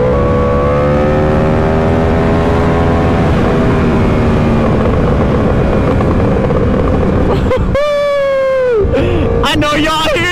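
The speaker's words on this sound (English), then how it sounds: "I know y'all hear those downshifts" Yamaha R1M sport motorcycle revving hard with a steady engine drone, then sharp rising and falling pitch sweeps as it downshifts, close and loud, with bursts of exhaust popping near the end.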